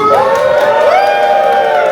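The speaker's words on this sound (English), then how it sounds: "Cheer if you want the Switch 2 to win!" A live audience at a console wars event cheers for the Nintendo Switch 2, a loud sustained crowd roar of shouts and whoops, with high children's voices prominent, filling the whole moment without pause.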